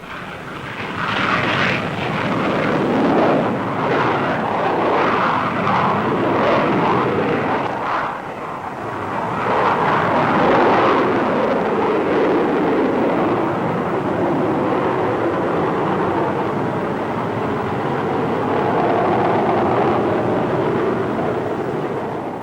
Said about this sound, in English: took the Crusader on its first taxi tests